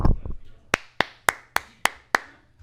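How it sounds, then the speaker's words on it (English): At a boys' high school soccer game, a few hands clap in six sharp, evenly spaced slaps, close and distinct with short gaps between, after a brief burst of sound at the start. "Round of applause for Amani there."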